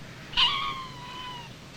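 A black cat gives a single clear meow, loud and close, with a sharp onset that trails off over about a second, heard alone against quiet background.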